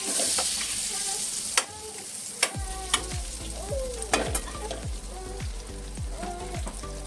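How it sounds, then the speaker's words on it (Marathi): Onions frying in butter and oil in a hot pan, a steady sizzle with several sharp clinks of a spoon stirring against the metal, close up. "कांदा चांगला फ्राय झाला पाहिजे"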